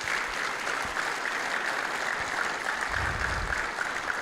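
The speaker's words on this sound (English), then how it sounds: "Can I have a big round of applause for all of these sponsors?" Audience members at a mayor's breakfast give a steady round of applause for the event sponsors, an even, continuous patter of many hands heard from within the room, with a low rumble near the end.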